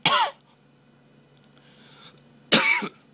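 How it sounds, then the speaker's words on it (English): Two short, sharp coughs from one person, the first at the start and the second after a quiet gap of a little over two seconds, each close and loud. "sorry, I actually had to cough"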